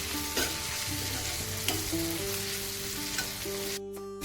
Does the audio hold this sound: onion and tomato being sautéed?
yes